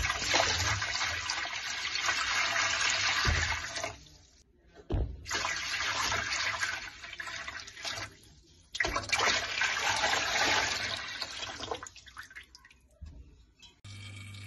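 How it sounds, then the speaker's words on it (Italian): Terrarium waterfall in a reptile room switched back on, water splashing and trickling steadily in a close, continuous rush that cuts out briefly twice before resuming and fading. "Ora lo riempio e poi semplicemente rimetto a funzionare la cascata."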